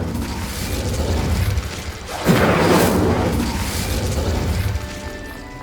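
A fire spell cast in Hogwarts Legacy, heard as a sustained mechanical rush with a sharp whooshing burst midway, then a broad crackling roar that gradually fades, with no talking.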